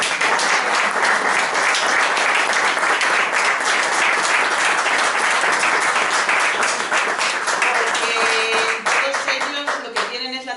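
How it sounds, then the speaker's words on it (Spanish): Sustained audience applause at a public healthcare conference, dense and loud clapping from a large crowd that thins out near the end. "lo que quería es que diésemos un aplauso a todos esos profesionales"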